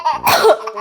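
A single short cough, a couple of quick close bursts lasting under a second, with no talking.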